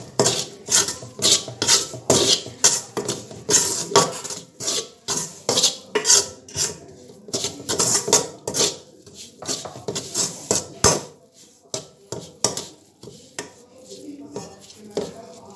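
Panjiri ingredients being dry-roasted in a pan, heard as rapid, repeated scraping and clattering of a spoon against the metal, close and fairly loud, in irregular bursts with a brief pause partway through.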